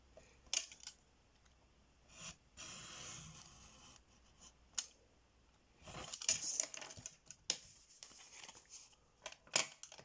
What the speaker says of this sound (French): on coupe, on fait une incision